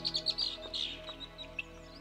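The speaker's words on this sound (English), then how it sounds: "So quiet, except for the birds." Small birds chirp and tweet in quick, bright bursts beside a quiet lake in Alberta, a close series of calls over a soft steady background with no voices.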